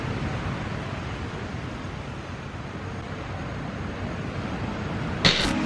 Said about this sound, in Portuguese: Ouve o barulho do mar, gente.